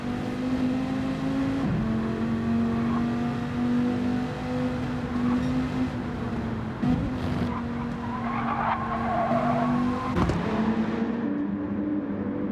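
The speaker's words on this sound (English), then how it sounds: "some hard braking into turn 1" Race cars in a racing video game brake hard into turn 1 at Fuji Speedway, a steady engine drone punctuated by sharp tire skids and squeals as several cars downshift through the corner.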